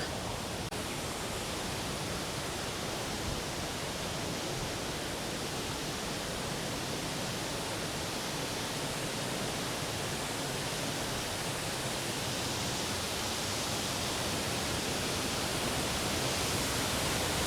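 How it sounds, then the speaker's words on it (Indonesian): Nung Nung Waterfall in Bali roars as a dense, unbroken rush of falling water, loud and close throughout with no other sounds standing out. "Jadi nama air terjun ini adalah Nung Nung Waterfall."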